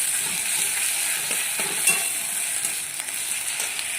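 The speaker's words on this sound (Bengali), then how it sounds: "বাটা পেঁয়াজটা দিয়ে দিলাম, এবার নাড়বো।" Onion paste frying in a pan gives an even, bright hiss that runs throughout, with faint intermittent scrapes from stirring; close and steady, with no speech.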